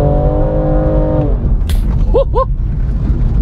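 A BMW M2 Competition engine idles with a loud, steady rumble, then the tone drops as the car is put in gear and pulls away, with a brief tire chirp and a low engine drone continuing after.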